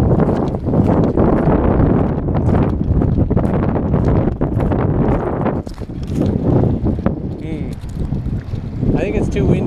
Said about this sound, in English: think it's too windy.